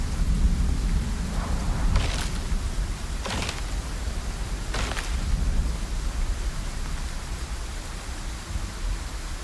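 Acid rain falling steadily in the Icarus game on a volcanic map, a constant hiss broken by three sharp thunder cracks spaced a second or so apart, with no talk.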